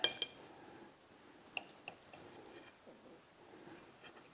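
Steak knife on a plate cutting into steak served with green peppercorn sauce, giving a few faint clinks and scrapes of metal on china, quiet and close with light background noise.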